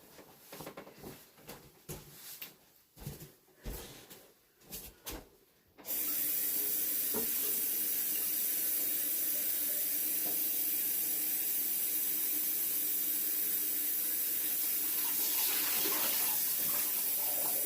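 Tap water runs steadily and loudly for the last twelve seconds, a broad continuous hiss that begins abruptly after a few soft knocks and handling sounds, filling a container to rinse a paintbrush.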